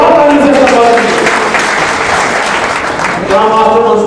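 Loud, dense applause from an audience welcoming a speaker at a party workers' meeting in a hotel, with voices talking over and around the clapping at the start and end.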